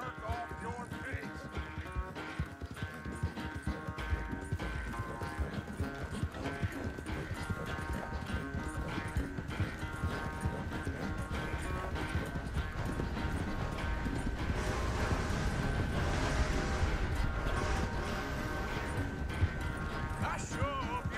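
Horse hooves clip-clop at a steady riding pace in Red Dead Redemption 2, a continuous rhythmic patter under game music and characters talking.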